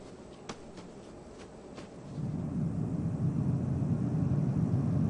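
An airplane in flight in the Duckman cartoon, later hit by engine trouble: faint clicks give way to a steady broadband engine roar that swells louder after two seconds and holds to the end.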